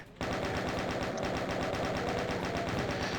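The chain gun in the video game DOOM fires in a rapid, steady automatic burst lasting about three seconds, each shot evenly spaced and loud and punchy, after a brief quiet start.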